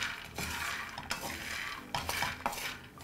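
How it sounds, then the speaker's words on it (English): Roasted groundnuts stirred in a hot pan off the heat, a quiet scraping rustle punctuated by several sharp clinks of a utensil against the pan at an uneven pace. "Mix it a bit with no fire, because your pan is still hot."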